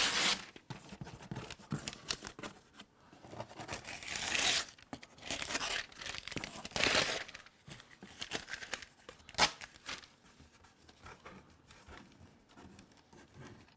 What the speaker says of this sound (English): I'm making it move slightly as I'm trying to rip tape.